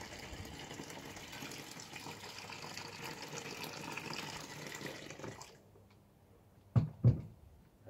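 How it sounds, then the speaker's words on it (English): About two litres of just-boiled water poured into a bucket of homebrew ginger beer ingredients, a steady gushing splash for several seconds that stops abruptly, followed by two dull knocks. "to that, we've got about 2 liters of boiled water."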